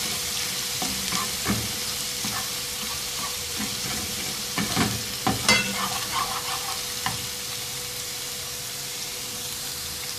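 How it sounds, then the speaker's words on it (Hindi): Garlic and ginger frying in oil with a steady sizzle, punctuated by several scraping stirs of a spoon in the pan, close and alone. "दो 3 मिनट तेल में फ्राई करेंगे इस लहसुन अदरक को।"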